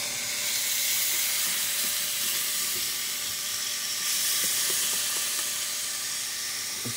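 Tilapia fillets sizzling in butter on a George Foreman grill, a steady, close hiss of frying that holds evenly throughout with faint crackles.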